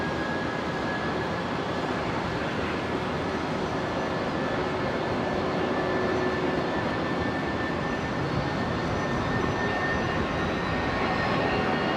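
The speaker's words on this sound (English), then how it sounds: "Jetstar 821's rolling. This 320 heading to Sydney" Jetstar Airbus A320 starting its takeoff roll at Brisbane Airport bound for Sydney: a continuous, even jet engine roar heard from a distance, with a thin high whine running through it.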